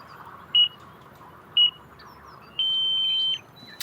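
An RC transmitter flight timer for an E-Flite Twin Otter electric model airplane beeps twice in short, clear tones, then sounds one longer beep, over a soft outdoor background hiss.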